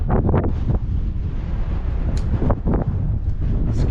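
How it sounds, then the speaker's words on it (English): Strong gusting wind buffets the microphone on the historic Carpenter's Bluff Bridge, a loud continuous low roar with no other sounds standing out. "Oh, that wind is picking up."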